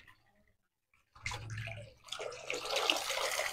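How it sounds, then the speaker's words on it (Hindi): Water gushes from a tap on a farm to refill the dogs' drinking water, starting after a short silence and running as a steady, close splashing stream that grows fuller. "सनैन यार पानी चेंज कर इन्हों का पानी हो गया गंदा"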